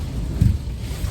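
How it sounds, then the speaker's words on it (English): A strong storm gust reaching about 50 miles an hour roars and buffets the microphone outdoors on a hike, a low rumbling swell over one brief second with no voices. "It's like crazy storm, wind gusts up to 50 miles an hour."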